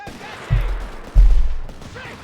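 Infantry gunfire in the video game Company of Heroes 3 lands as two heavy, muffled bursts about half a second apart, with faint background sound between them.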